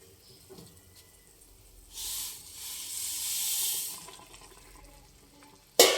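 Roasted vermicelli pours into boiling water in a pot, a soft hissing rush that swells for a couple of seconds and fades over a quiet bubbling background, ending with a sharp clatter.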